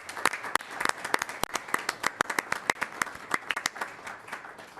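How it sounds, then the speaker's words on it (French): An audience at a council evening applauds nominees, the clapping moderately sized with distinct individual claps standing out in an uneven, fairly close patter that continues for about five seconds. "Alors, on les applaudit pour leur nomination."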